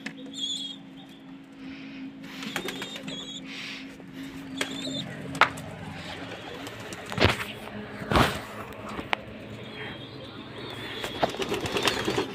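Pigeons, including a red one and a young bird, eating from close by, with soft pecking taps, rustling and a few sudden bursts of wing flapping in a quiet space with faint cooing.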